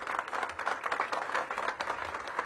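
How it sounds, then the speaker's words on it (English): An audience applauds a departing D.C. government director at a mayoral press event, steady light clapping from a modest crowd for a couple of seconds, fairly faint and distant, without speech. "Give him a big round of applause."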